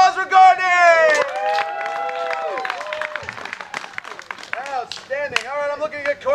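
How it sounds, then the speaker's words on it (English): Crowd applause and cheering for a performer at a bawdy pirate-themed show, rising in quick bursts of claps under loud voices and whoops near the stage. "Let's give a round of applause for Courtney!"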